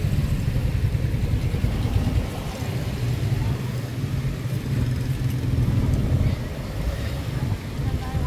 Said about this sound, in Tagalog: traffic pa rin kasi marami masyadong mga sasakyan